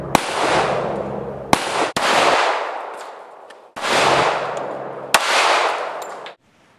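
Four loud .45 ACP pistol shots fired at water bottles, each a sharp crack followed by a long echoing tail, spaced irregularly about two seconds apart and heard alone.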